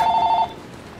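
A telephone ringing over Battlefield 3 gameplay, its steady electronic trill loud and close for about half a second before breaking off, leaving only low background hiss.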